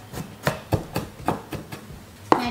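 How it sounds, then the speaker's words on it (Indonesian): Garlic finely chopped with a knife on a cutting board, about eight crisp, evenly spaced knocks of the blade with a sharper final chop, close and clear with no talk. "Bawang putihnya ini mau dicincang halus aja"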